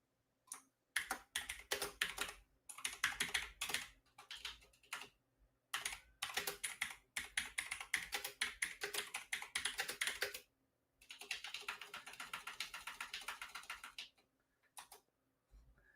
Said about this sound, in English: Loudest keyboard in the business, guys.